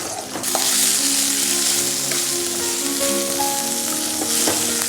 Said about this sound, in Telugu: సో సాటేయింగ్ అయిపోయింది ఇవి కూడా.